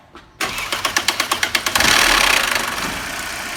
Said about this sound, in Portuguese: vamos dar a partida para escutar o barulho.